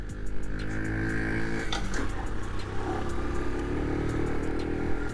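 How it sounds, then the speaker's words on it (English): A 2007 Honda Super Cub 50 engine idles steadily at close range, its low, even running hum continuing after a brief clatter as the choke is turned off. "Let me just turn off this choke."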